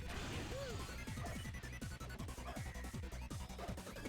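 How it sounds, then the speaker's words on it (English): Glass floor shattering in the Sonic Heroes video game's casino zone, a burst of crashing breaks and thwacks repeating over game music and effects at moderate loudness. "I accidentally broke the glass floor."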